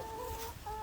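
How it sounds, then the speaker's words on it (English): Hungry chickens cluck in a short burst, a pair of nasal calls with a brief break between them, heard close but faint. "They're hungry chickens."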